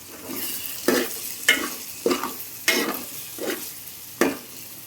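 Boiled prawns are stirred in a frying pan, with about six distinct scraping strokes of a spoon against the pan over a soft, continuous sizzle, close and clear with no talk.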